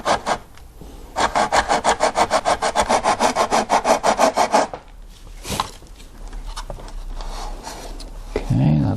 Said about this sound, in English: if I want to sand against something where I don't want to sand the side